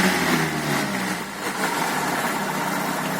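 A car engine running on a second-generation CNG conversion kit idles steadily while the kit is being adjusted, giving a continuous, even hum at moderate volume with no talking.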